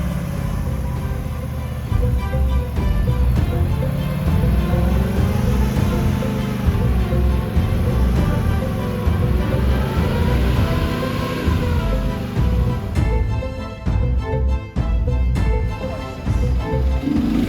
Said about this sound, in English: The TJ behind me was off the rev limiter getting up